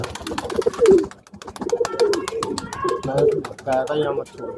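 Pigeons from a bred fancy line coo in soft, throaty bursts close by, while someone talks in the foreground.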